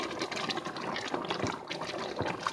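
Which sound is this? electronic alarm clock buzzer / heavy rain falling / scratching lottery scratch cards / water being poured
water being poured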